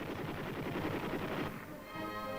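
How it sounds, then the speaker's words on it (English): A .50 caliber machine gun fires a rapid, continuous burst of loud shots that blur into a dense roar, then cuts off into a fading, ringing tail. "Comparison firing, 50 caliber machine gun."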